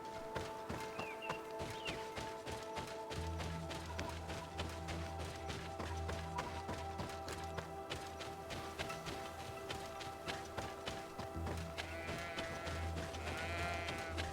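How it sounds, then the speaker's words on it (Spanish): A goat bleating in the video game GreedFall, a few nasal bleats over a steady ambient backdrop with background music and rhythmic clip-clop footsteps. "¿Qué pasa, cabra? Ahí la cabrita."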